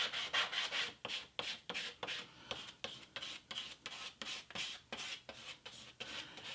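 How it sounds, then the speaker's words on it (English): Paint is scraped onto a surface with a steady rhythm of raspy strokes, about two per second, quiet and close, with no voices. "Begin to scrape and layer the blue or the turquoise."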